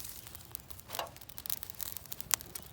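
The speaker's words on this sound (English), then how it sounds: "That's the sound of wood burning." A small campfire of straw tinder and shaved wood burns, giving faint, sparse crackles and pops over soft rustling, close by and quiet, with no talking.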